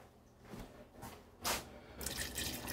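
Hot water poured into a pot of bean stew, soft splashing and running liquid in short bursts that grow into a steady pour, quiet and close.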